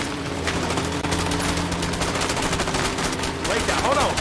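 Sustained gunfire in the video game A Way Out, rapid automatic bursts running steadily over a dense game soundscape, with a brief tonal effect near the end.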